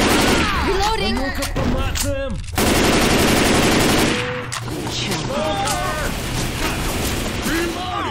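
Sustained machine gun fire in Left 4 Dead 2 on a modded custom map, loud and nearly continuous with a brief break, mixed with mechanical clatter and in-game character voices calling out over it.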